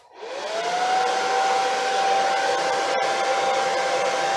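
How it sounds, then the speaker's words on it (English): A hair dryer, used to spread paint in a pour painting, whirs up to speed and then blows steadily and loudly, a constant high whine with no voices. "Alright, here we go with hairdryer."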